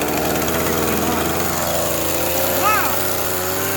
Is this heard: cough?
no